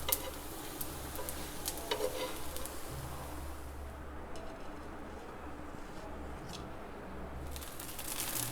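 Sabudana (tapioca pearl) paratha frying on a pan, a steady low sizzle and crackle running continuously at moderate level with a few brief clinks and scrapes, no voices.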